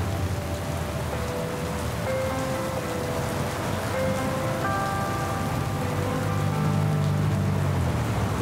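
Steady rain falls and patters continuously on a surface, a dense, even hiss with faint tonal sounds drifting through it, and no voices.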